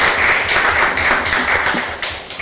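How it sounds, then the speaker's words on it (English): Alumni at a Howard University Alumni Association meeting give themselves a round of applause, a full, loud crowd clapping that fades slightly near the end. "you should give yourself a round of applause for your contributions"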